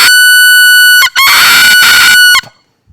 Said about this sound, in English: that sounds like a duck call